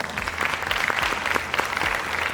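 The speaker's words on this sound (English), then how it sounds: "give them a round of applause" Audience applause after a call to cheer a coach and staff at an early signing day event, steady dense clapping throughout, loud and close.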